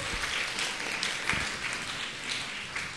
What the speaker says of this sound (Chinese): 把掌声归给我们的神